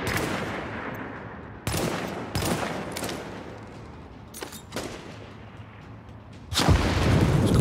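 Gunfire and a grenade blast from The Division during a boss fight, with sharp bursts of shots, a few loud cracks and a heavier roaring burst near the end, close and unaccompanied by talk.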